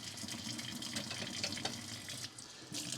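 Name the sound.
tap water running while rinsing plates at sink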